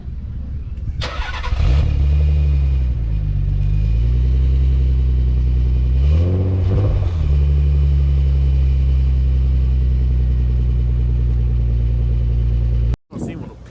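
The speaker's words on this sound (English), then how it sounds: "See if we could get a little rev up of it." A classic car engine at a British Motor Museum gathering cranks to life, then idles with a deep, loud rumble and rises in a couple of revs before cutting off near the end.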